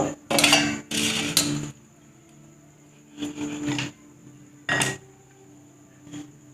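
A knife chops food on a kitchen board in a few sharp bursts of quick, close cuts, separated by pauses, with a faint steady hum underneath.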